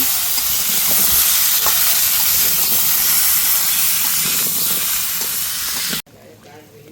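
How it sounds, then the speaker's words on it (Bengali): Pieces of sweet gourd fry in a pan for a prawn curry, giving a loud, dense hiss and sizzle with occasional stirring scrapes that ends abruptly after about six seconds. "তো মিষ্টি লাউগুলো দিয়ে নিচ্ছি ভালো করে কষে নেব"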